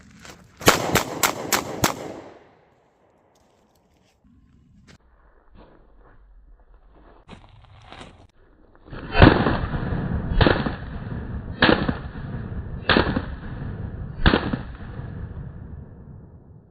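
Five sharp gunshots from a Smith & Wesson 637 Airweight .38 Special snub-nose revolver fired one-handed double action, loud and close in quick succession outdoors, followed by scuffling movement and then further loud bangs spaced about a second apart.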